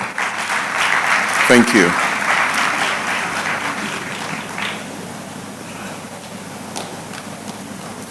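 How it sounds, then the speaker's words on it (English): Audience applause at a law conference session for the executives of a Lagos branch, a dense burst of clapping that swells in the first few seconds and thins out, with a voice speaking over it. "A round of applause for the executives of MBA Lagos branch."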